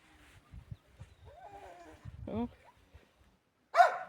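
A small dog gives a few short, high yips and whimpers at a cat amid quiet surroundings, with some soft knocks and thumps nearby.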